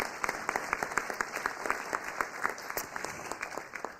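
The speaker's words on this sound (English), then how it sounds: "Yes, you can clap for that." Applause at a city council meeting, a moderate crowd clapping steadily in a room for several seconds and fading slightly at the end.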